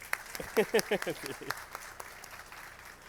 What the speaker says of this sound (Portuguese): Queria pedir palmas para a Isa também.